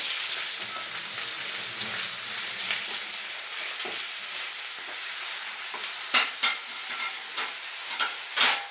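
Sliced onions frying in a pan for egg roast give a steady, close sizzle with soft stirring scrapes, and a few sharper clatters of the spoon against the pan near the end; no talking.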